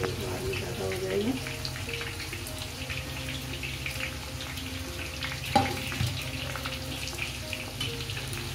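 Arbi leaf pakoras frying in hot oil give off a continuous bubbling sizzle, close and moderately loud, with a brief clatter partway through and voices talking over it.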